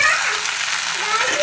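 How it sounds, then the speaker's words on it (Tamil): Fried rava (semolina) cubes added to a pan of upma manchurian, giving a loud, dense, steady sizzle that fills the whole moment. "இந்த ரவா க்யூப்ஸை இதில் சேர்த்துக்கலாம்"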